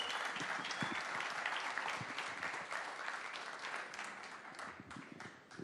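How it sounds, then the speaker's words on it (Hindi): An audience at a stage event gives loud, sustained applause welcoming actor Pankaj Tripathi, dense crowd clapping that holds steady and slowly fades. "फिर से जोरदार तालियों के साथ स्वागत करेंगे पंकज त्रिपाठी जी का।"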